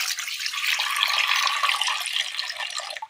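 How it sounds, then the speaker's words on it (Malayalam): Water poured into a pressure cooker holding pumpkin pieces for a Kerala curry, a steady close splashing stream lasting a few seconds before cutting off. "അല്പം വെള്ളം ഒഴിച്ചു കൊടുക്കാം."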